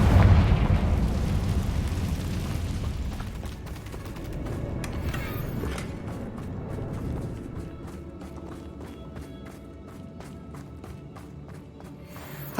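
A Confringo blasting spell explosion in Hogwarts Legacy booms loudly at the start and rumbles away into a long, decaying roar, followed by faint mechanical creaks and ticks.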